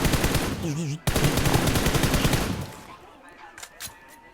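Automatic gunfire in the video game PUBG on the Erangel map, loud rapid bursts in dense rattling volleys that break off and trail into fainter distant shots, with a voice briefly heard.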